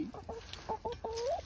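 A backyard hen clucks close by in a quick series of short, sharp clucks with brief pauses between them, with no talking over it.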